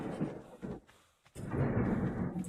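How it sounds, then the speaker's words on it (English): Thunder from a storm outside rolls in two heavy, rumbling bursts separated by a brief lull, loud and booming with no voices over it. "So you guys can hear how bad the thunder is right now."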